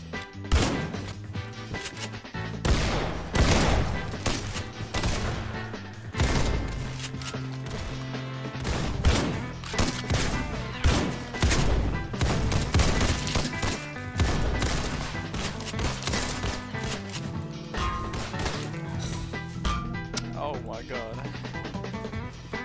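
Shotgun fire in the Roblox game Criminality: loud, sharp blasts repeating irregularly over a long stretch among crashes and impacts, with voices talking over the gameplay.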